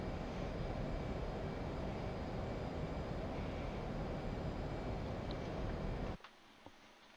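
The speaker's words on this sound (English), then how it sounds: "Supersonic Hornet, what will he do? This is gonna be a good flyby shot." A supersonic F/A-18 Hornet jet roars past in the DCS flight simulator, a loud broadband rush that holds steady and then cuts off abruptly, leaving near silence.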